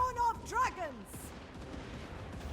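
Crane Gunner artillery firing during a Total War: Warhammer 3 battle: a brief opening of tonal, sweeping game effects gives way to a steady rumble of distant, overlapping shots.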